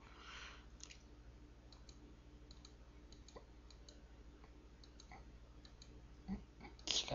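Soft, rapid clicking of computer keys, typed in quick irregular bursts, faint and close, with a low steady hum underneath.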